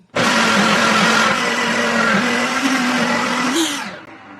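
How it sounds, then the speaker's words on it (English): A blender purees chile liquid for tamales with a loud, steady motor whir that starts abruptly, holds close and strong, then its pitch shifts briefly before it winds down and stops. "And now we're gonna blend it."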